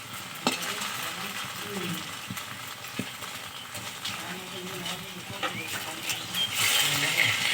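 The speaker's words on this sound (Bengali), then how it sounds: "আস্তে আস্তে উল্টে দুদিক ভেজে নিতে হবে।" Pieces of homemade chhana frying in hot oil in a village-style kitchen, a steady low sizzle broken by scraping clinks as the pieces are turned, with a brief voice partway through.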